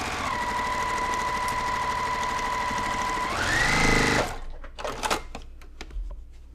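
A sewing machine runs fast and steady while stitching a quilt seam, a continuous close whirring hum that shifts pitch near the end before stopping, followed by a few soft handling clicks.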